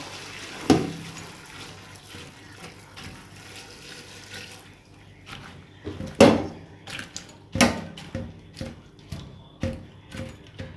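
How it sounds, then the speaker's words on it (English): Water poured in short intermittent splashes into a pot of sorrel buds, with a few sharp knocks and quieter trickling between pours, close up. "add the water sparingly now."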